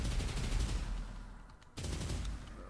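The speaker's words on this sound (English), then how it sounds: "This is your typical nail gun. It's pretty much inspired from Quake's nail gun." A Quake-style nail gun in a video game fires a fast, continuous stream of rapid projectile shots. The stream briefly thins and drops out before resuming at full intensity.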